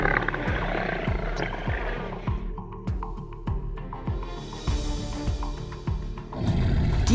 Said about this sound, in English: That chilling roar echoes from the bushes